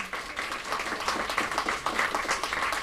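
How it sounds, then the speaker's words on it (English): Audience at the 2018 Mind Sports Olympiad award ceremony claps for an event organiser, a steady wash of mid-sized applause that holds evenly for a few seconds. "Let's give her a round of applause again."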